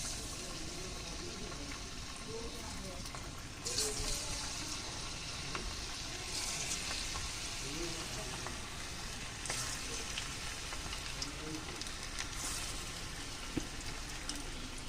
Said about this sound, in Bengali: তেলটা আমার গরম হয়ে গেছে, আমি দিয়ে দিই আস্তে আস্তে